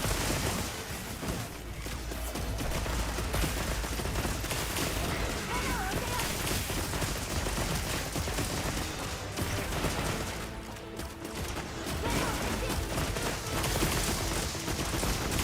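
Rapid volleys of pierce-ammo shots from a bowgun in the game Monster Hunter Wilds, dense and continuous with booming impacts layered on game effects, faint talk mixed beneath.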